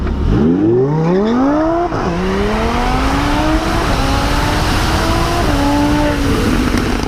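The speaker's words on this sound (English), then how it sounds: "Watch how the Tesla Model X acceleration compares to a supercharged Lamborghini Huracan in this clip right here." A supercharged Lamborghini Huracan races a Tesla Model X. The engine roars loudly and steadily, climbing through several quick gear shifts under constant road and wind rush.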